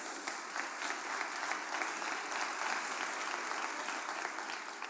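Audience applause at a talk, dense sustained clapping from a large crowd, steady and fairly loud throughout without voices rising above it.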